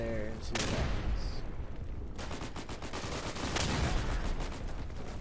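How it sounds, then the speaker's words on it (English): A grenade explosion in the World War II shooter Day of Infamy, a loud boom followed by a dense rattle of gunfire and battle noise continuing throughout. "Let me just throw a nade over there and see what happens."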